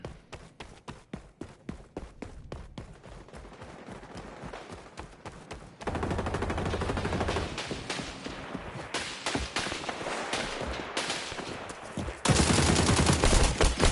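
Rapid game gunfire from the online shooter XDefiant, crackling bursts of automatic fire and scattered single shots throughout, growing louder and denser toward the end, with faint footstep-like taps between volleys.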